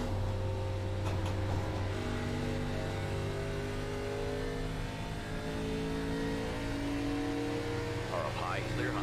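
Race car engines in iRacing droning loud and steady at high revs, with pitch shifting slightly through the run and a voice speaking briefly over the engine noise.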